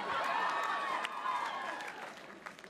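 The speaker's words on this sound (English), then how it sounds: "Don't cheer." A stand-up comedy club audience cheers and applauds, with whoops and clapping rising together at moderate volume and then gradually fading out.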